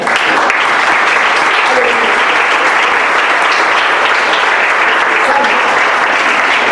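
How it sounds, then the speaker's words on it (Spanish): A church congregation clapping to the Lord during a Spanish-language sermon, loud and sustained from start to finish, a thick wash of many hands with no break and no clear voice above it. "Yo le quiero dar palmas al Señor."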